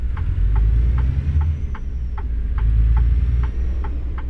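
A fleet truck's diesel engine in American Truck Simulator drones with a deep, steady low rumble, while a regular ticking pulses over it at an even pace.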